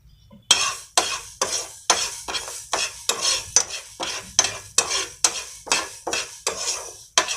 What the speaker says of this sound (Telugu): అందులో 2 టేబుల్ స్పూన్ మెంతులు వేసుకుని కొద్దిసేపు ఫ్రై చేసుకోవాలి